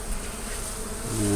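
Honeybees packed in a decent-sized hive under an elevated home in Mississippi buzz steadily and close, a dense continuous drone that swells slightly louder at the end.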